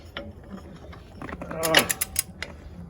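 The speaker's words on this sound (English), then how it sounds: "it's going to be easy to set lug nuts at 400 foot-pounds" A long torque wrench ratchets on truck wheel lug nuts, giving a few sharp, close metallic clicks in quick succession over faint background noise.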